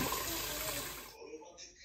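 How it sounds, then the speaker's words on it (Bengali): Lemon-curdled chhana is rinsed in water, a short gush of splashing and pouring that cuts off abruptly, leaving faint trickles. "ছানাটা যেহেতু আমি লেবু দিয়ে করেছি, ওই জন্য ভালো করে জলে ছানাটাকে ধুয়ে নিলাম।"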